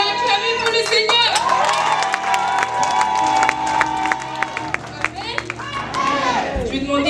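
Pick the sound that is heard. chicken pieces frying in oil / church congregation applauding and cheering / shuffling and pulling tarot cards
church congregation applauding and cheering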